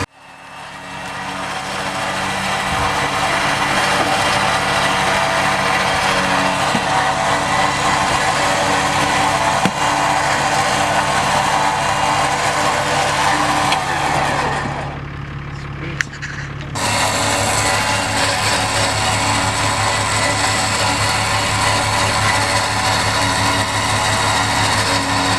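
An excavator's engine runs outside a garage as a loud, steady, broadband drone that holds for most of the stretch, dips briefly near the middle, then resumes just as strongly, with no one talking.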